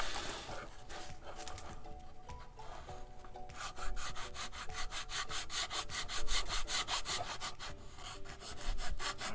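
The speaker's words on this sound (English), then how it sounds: "I'm going to have to just do a little bit of sanding on the end of this to get it to slide into this little slot" Wooden end of an RC plane fuselage is worked with sandpaper, with close, scratchy rubbing strokes that turn into a quick, regular back-and-forth rhythm partway through, fairly quiet with nobody talking.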